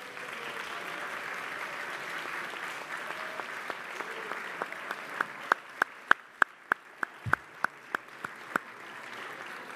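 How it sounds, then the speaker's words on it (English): A room applauds a departing colleague: a soft wash of group clapping first, then a run of distinct, evenly spaced claps that grow louder before ending abruptly. "I want to give him a big round of applause."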